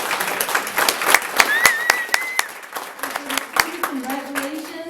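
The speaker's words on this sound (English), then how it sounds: "Let's give them a round of applause." Guests at a scholarship awards luncheon clap for family and friends, a scattered round of applause from a room of people, moderately loud, with voices and a few faint tonal sounds mixed in toward the end.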